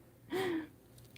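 A cat named Sid makes a single short, soft snore-like breath, close and faint, followed by quiet room tone.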